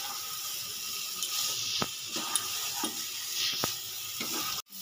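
Okra stirred into oil-rich masala in a pan for a prawn and okra curry, giving a steady close sizzle with a few sharp scraping clicks from the spoon and a brief break near the end.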